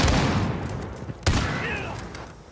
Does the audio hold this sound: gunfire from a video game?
yes